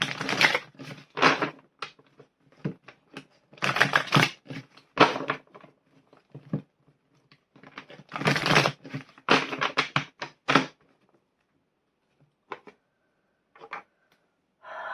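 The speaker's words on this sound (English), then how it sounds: "I'm going to shuffle these cards ready for part 3." Tarot cards riffle and slap in quick crisp bursts, several shuffles separated by short pauses, close by and with no talking.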